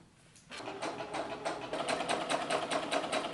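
Sewing machine stitching a fabric strap for a halter top, starting after a brief quiet moment and then running steadily with a rapid, even mechanical rhythm, close and fairly loud, with no talking.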